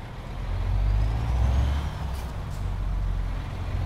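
Old two-axle VW 35-300 truck with a bulk trailer, its low engine rumble swelling and easing near at hand while a faint air-brake hiss briefly sounds above it; no speech.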